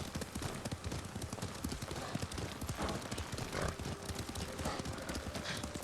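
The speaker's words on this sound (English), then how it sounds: "Lord Sakai taught me to ride a horse." Rapid clip-clop of horse hooves at a gallop in the video game Ghost of Tsushima, loud and continuous, with a brief whinny and rumbling movement mixed in.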